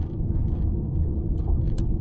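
A car rolls along an unsealed gravel road in rural New Zealand at around 60 km/h, giving a steady, close low rumble with faint crunching and no one talking.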